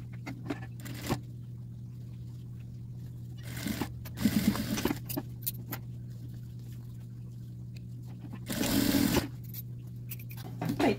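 A sewing machine stitches a 0.5 cm seam on a small fabric coin purse in short bursts, two longer runs and a few quick taps, with a steady motor hum beneath.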